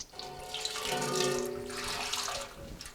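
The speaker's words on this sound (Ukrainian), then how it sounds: "Я взяв каструлю велику, 40-літрову, і відкриваємо кран." Water gushes from a tap into a large 40-litre pot for brewing beer, a continuous splashing stream whose tone rises slightly as the pot fills.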